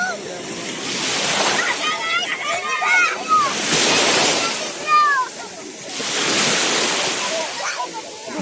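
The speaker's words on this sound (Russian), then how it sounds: "Вот такое море." Sea waves surge and wash ashore in broad, rolling swells over steady wind noise, loud and close, with people talking faintly beneath the surf.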